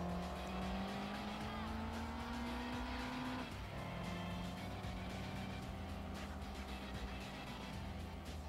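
Gran Turismo 2 race car engine whining loud and steady with tire squeal and skidding as the car hits a wall and spins out, engine pitch dropping sharply mid-clip, continuous game audio throughout.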